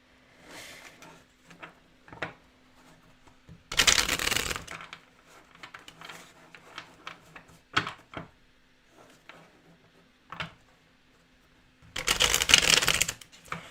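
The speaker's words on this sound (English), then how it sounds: "so you can skip the shuffling" Tarot cards are shuffled in two loud, brief riffling bursts set apart by a long gap, with faint scattered tapping and handling noises in a quiet room between them.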